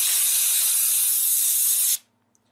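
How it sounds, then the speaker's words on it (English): A compressed air spray can blows dust from a computer: a steady, loud hiss of air spraying for about two seconds, then cutting off abruptly into near silence. "It's got to be compressed air."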